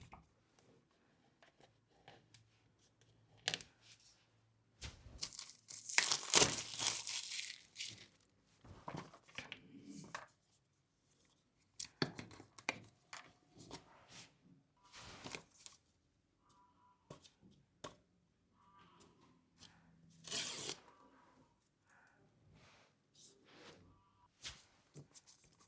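Black Shokz OpenDots Air earbuds being unboxed, with intermittent cardboard scraping, flaps lifting and plastic packaging crinkling in short, close bursts separated by quiet pauses.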